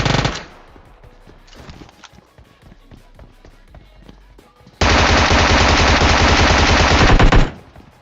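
Automatic gunfire in a battle royale shooter, with a short burst at the start, another brief burst, scattered footsteps and taps, then a long, loud sustained spray of rapid shots lasting nearly three seconds.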